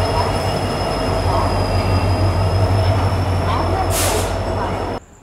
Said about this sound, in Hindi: और कोई गुड्स ट्रेन भी यहाँ से स्किप कर रही है प्लेटफॉर्म 1 को।